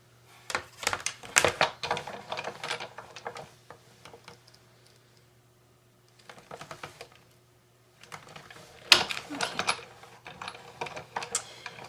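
A die-cutting machine cuts paper card pieces for a simple Valentine card, producing bursts of quiet clicking and ratcheting mechanical ticks, separated by near-silent pauses, over a faint steady hum.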